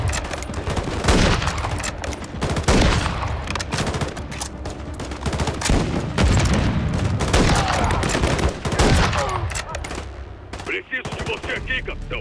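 Dense, continuous automatic gunfire and machine-gun bursts from the Call of Duty Modern Warfare 3 campaign, loud and nearly unbroken with scattered blasts, and brief voices mixed into the battle noise.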